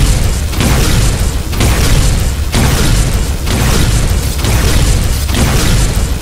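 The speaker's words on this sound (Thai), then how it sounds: "เหมือนกับว่าระเบิดมันโดนเราไง" Minecraft game explosions form a loud, dense run of booming blasts that follow one another about once a second over a constant roar.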